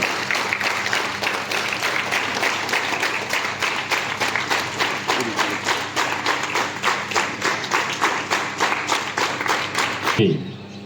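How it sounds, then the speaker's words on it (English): Students at a school morning assembly clap together in a steady, synchronized rhythm, a loud, regular beat of many hands that continues for about ten seconds before stopping abruptly. "Clap together."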